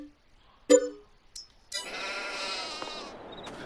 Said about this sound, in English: there should be our sheep